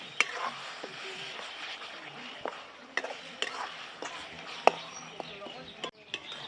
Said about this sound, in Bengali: মশলাটা ভালো করে কষিয়ে নিচ্ছি।